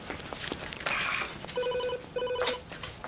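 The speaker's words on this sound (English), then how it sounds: "Hey, is that your phone or is that mine?" A telephone rings in a room, sounding as two short bursts of electronic ringing with a brief gap between them, at moderate loudness over faint background noise.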